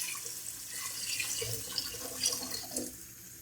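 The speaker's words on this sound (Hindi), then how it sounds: "अब हम इसमें पानी ऐड करेंगे।" Water is poured into a cooking pot of Arabic pulao, a continuous close splashing and gurgling stream with small drip-like accents, moderately loud throughout with no talking.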